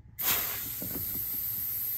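A DiversiTech DrainKat fires a sudden pressurized blast into a clogged central AC condensate drain, starting with a sharp onset and settling into a loud, continuous hiss, with faint gurgling underneath.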